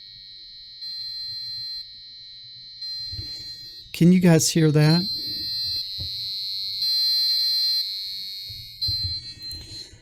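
A passive buzzer driven by a Raspberry Pi beeps in a high, steady tone that shifts pitch in stretches like a siren, running through most of the clip while a voice briefly speaks over it.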